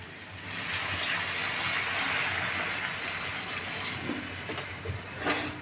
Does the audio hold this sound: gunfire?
no